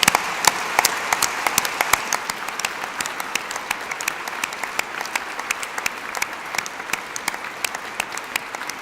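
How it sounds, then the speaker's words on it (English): Audience at an election hustings in Ely Cathedral applauding the cathedral, a strong sustained round of many hands clapping with sharp individual claps standing out, reverberant and steady for the whole stretch. "I want a round of applause for the cathedral"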